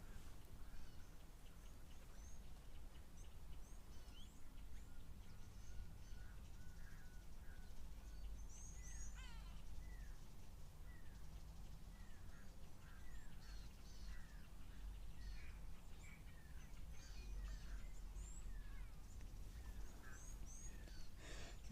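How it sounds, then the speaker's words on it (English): A recorded squacco heron call plays at a waterhole: harsh, croaking squawks repeat in short bursts over steady outdoor background noise. "I'll play a call of the squawker heron."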